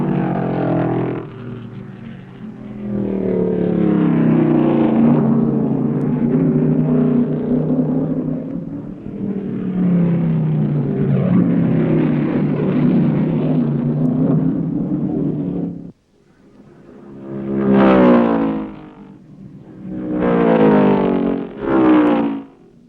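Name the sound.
1970 Grand Am race cars driving at full speed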